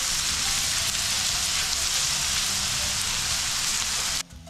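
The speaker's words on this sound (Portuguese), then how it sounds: "Vamos deixar fritar." Grated calabresa sausage and onion fry in a pan with a loud, even sizzle close by that continues steadily, then drops away abruptly near the end.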